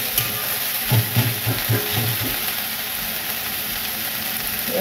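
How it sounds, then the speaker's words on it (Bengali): Drumstick leaves with salt and turmeric frying in a pan give a steady close sizzle, broken by a few soft scraping stirs of a spatula, with no one talking. "সজনে শাকটা দিয়ে দিলাম, একটু নুন দিলাম আর একটু হলুদ দিলাম, দিয়ে এটাকে নেড়ে নিচ্ছি"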